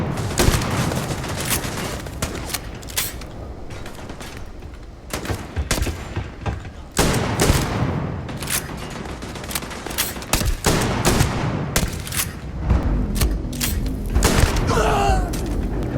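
Shotgun fire in the Starfield video game, repeated sharp blasts and bursts of gunfire over a constant combat din, loud and dense across a long stretch.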